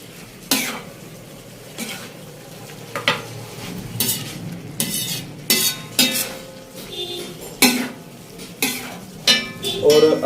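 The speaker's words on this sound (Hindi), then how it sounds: "कलेजी को इसमें अच्छे तरीके से मिक्स कर लेंगे।" Chicken liver with spices is stirred and fried on a hot tawa, with repeated sharp scraping clatters of a utensil over a steady low sizzle. The sounds are close, and no one speaks.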